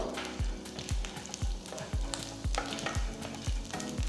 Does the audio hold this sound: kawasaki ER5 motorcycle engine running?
no